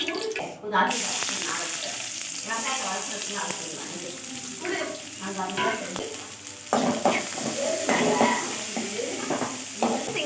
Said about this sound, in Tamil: வெங்காயம் நல்லா வதந்து உப்பு போட்டாச்சு